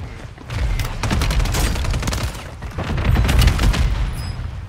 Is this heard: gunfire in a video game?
yes